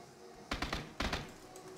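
Video game gunfire comes in two short, faint bursts of quick shots, each two or three rapid reports, muffled and somewhat distant over a low background.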